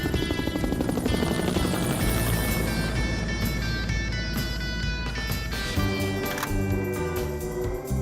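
A helicopter's rotor chop throbs loud and steady, a dense rhythmic beating with turbine whine over it, unbroken and close, with no talk.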